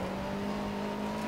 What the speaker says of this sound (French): On relance la mécanique. La petite Alpine qui est passée par l'assistance